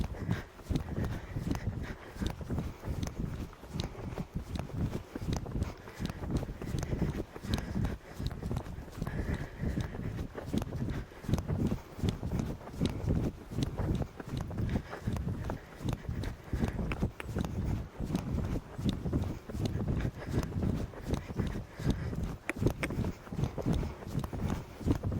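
Ridden horse hooves on flat ground during winter schooling, a continuous rhythmic clip-clop of steady strides, loud and close, going on without pause.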